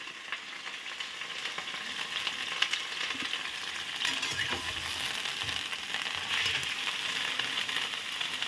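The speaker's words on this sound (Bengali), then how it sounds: "তেল প্রচণ্ড ছিটছে, ভয় লাগছে, এই জন্য দূরে চলে আসলাম।" Hot oil spatters and sizzles steadily as cauliflower fries in a pan, a continuous crackling hiss heard from a short distance with occasional sharper pops.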